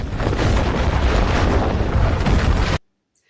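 A magical stone-throwing spell blast from a tabletop role-playing game, one loud, sustained roaring rumble like an explosion that holds for nearly three seconds and then cuts off abruptly into silence.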